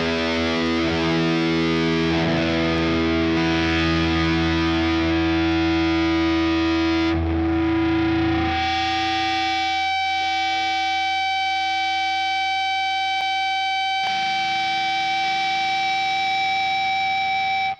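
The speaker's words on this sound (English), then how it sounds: "it's both a low note and a bit of feedback" An electric guitar holds a low note in front of its amplifier speaker until feedback takes over. A loud, distorted, sustained tone swells into ringing high harmonics that shift pitch partway through.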